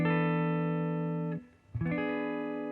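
A sustained, bright guitar 7sus4 chord rings out, briefly cuts off, then sounds again and holds steady with no voices.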